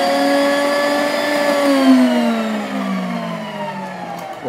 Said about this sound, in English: Look at these beautiful little butter pearls coming out of the slicer